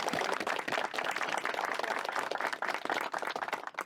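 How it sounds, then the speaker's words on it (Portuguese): An audience at a local history gathering in Ibirama claps for a few seconds in a close, lively burst of individual hand claps that thins toward the end. "a quem eu peço também uma salva de palmas."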